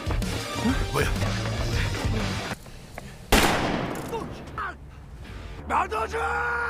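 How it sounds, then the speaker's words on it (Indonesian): Gunfire and a sharp crash burst out during a film chase scene, a loud impact near the middle standing out over dense rumbling music and effects, with a voice shouting briefly beneath the mix. "suara desingan peluru mengancam keselamatannya"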